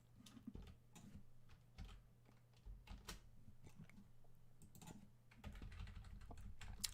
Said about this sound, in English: This I'm just typing on the page here